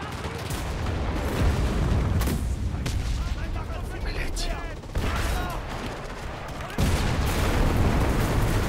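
Enlisted game combat noise: repeated booming blasts and gunfire rumble in dense bursts, with sharp cuts between loud sections and a voice talking at times.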